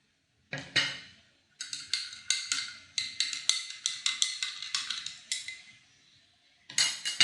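A utensil stirring a salt and water mixture in a small container, a quick run of close metallic clinks and scrapes in steady rhythm, pausing briefly before resuming, no talk.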